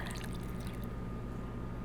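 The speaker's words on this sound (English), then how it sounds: "go ahead and pour your buttermilk in" Buttermilk is poured into a mixing bowl for a homemade coffee crumb cake, making a continuous soft liquid splashing and trickling over steady low background noise.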